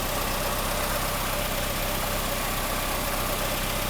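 Mercedes W123 230E four-cylinder engine idling around 960 rpm after fuel distributor repair, a steady low mechanical hum with even vibration, recorded close and continuous with no talk.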